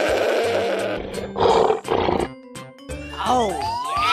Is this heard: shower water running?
no